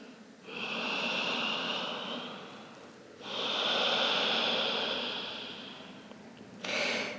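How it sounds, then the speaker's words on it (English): Slow, deep yoga breaths, long airy inhales and exhales alternating in a smooth rhythm, close and clear with no talking. "And smoothing the inhales, the exhales. And the inhales can match the exhales."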